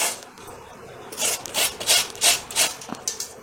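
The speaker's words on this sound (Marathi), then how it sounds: "तर आता मी हे सगळे यातनं आवळे किसून घेणार आहे" Amla (Indian gooseberries) grated on a hand grater, a series of about eight rhythmic rasping strokes, close and clear, with quieter scraping before them.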